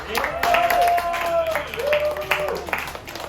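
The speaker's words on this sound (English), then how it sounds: "Let's give them a round of applause." A crowd claps steadily, the applause running throughout with voices or tones mixed over it.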